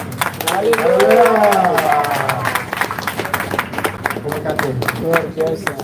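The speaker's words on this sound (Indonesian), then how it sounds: "Sekali lagi tepuk tangan yang meriah buat penyerahan kunci dari Bapak Penatua Petrus Dwi kepada Bapak hamba Tuhan Elias Logo." An audience applauds at a church building inauguration as a key is handed over, scattered clapping that rises and falls over several seconds while an announcer speaks over it.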